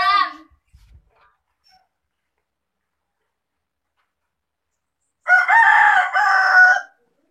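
A rooster crows loudly and close by, one full cock-a-doodle-doo after a long quiet stretch, with a short vocal burst just before it at the start.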